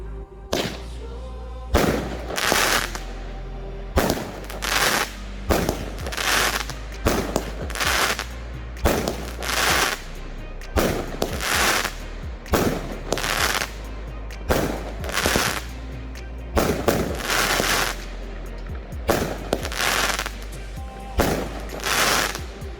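A Pyro King 12-shot Done Deal firework cake fires a long sequence of sharp booming shots, each followed by crackling, at a fairly regular pace from a moderate distance.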